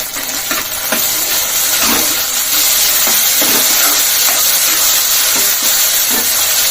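Onions and tomatoes frying in a pan, a steady loud sizzle and hiss close up, with small pops and stirring knocks recurring throughout and no talking.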